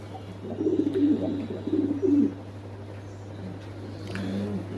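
Yellow Lahore pigeons cooing in a loft, several soft rolling coos close by over a constant low electrical hum, with faint chirps in the background.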